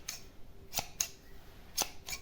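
Scissors snip through wallpaper in a few crisp, separate cuts, close and clear against a quiet room.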